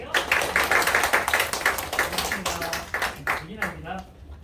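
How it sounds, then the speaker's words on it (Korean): An audience of high school students at a lecture claps to welcome a pediatrician speaker: dense, steady clapping from a crowd that thins toward the end, with voices mixed in. "박수로 모셔볼게요."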